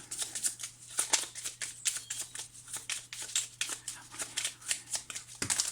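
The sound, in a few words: oracle cards being shuffled and drawn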